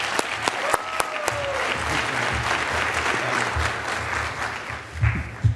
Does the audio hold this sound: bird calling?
no